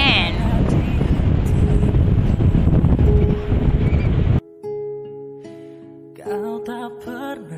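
Strong wind at Pantai Balok beach in Beserah roars and buffets the microphone for about four seconds, then cuts off abruptly into quieter music with singing.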